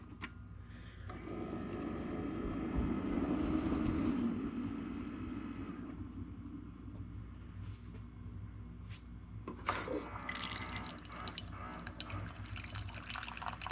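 A Keurig coffee maker pours a steady stream of water into a cup, a soft continuous gurgle that swells and fades before a few faint clicks and handling noises.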